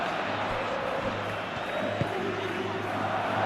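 Stadium crowd noise from a PES football simulation of Real Madrid against Atletico Madrid in La Liga, a steady broad roar of cheering fans with a faint swell near the end, heard at a distance throughout.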